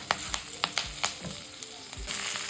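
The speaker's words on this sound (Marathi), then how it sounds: "आता या मिरच्या अशा टाकून घ्यायच्या आहेत आणि छान असं सटसट ढवळत राहायचं आहे आपल्याला" Chopped green chillies fry in hot oil in a pan while being stirred, a close steady sizzle with repeated scraping knocks of the spoon at an uneven rhythm, with no voices.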